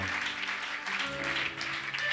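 Church congregation cheering and applauding during a French-language worship service, a dense, continuous wash of clapping and voices at moderate distance.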